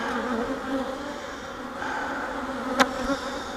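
Honey bees drone in a continuous buzzing swarm at an open hive while honey supers are being pulled, close and even, with one brief sharp click partway through.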